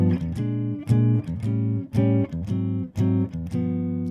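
A jazz guitar plays a turnaround chord progression using a tritone substitution. Several chords are strummed one after another at a steady moderate pace, each with a clear attack and a short ring. The guitar is clean, close and alone.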